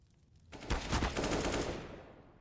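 AK rifle gunfire in a competitive Counter-Strike match, heard as a loud, close burst of rapid automatic shots that fade out over about two seconds.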